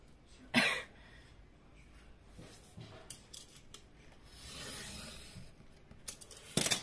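Scissors snipping through scrapbook paper in a few quick crisp cuts, with a soft rubbing of paper between them, close and fairly quiet.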